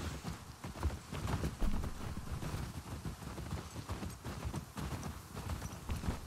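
A horse's hooves clip-clop steadily through a patrol scene in The Last of Us Part 2. The rhythm is even and the sound is fairly quiet and close, with no talk over it.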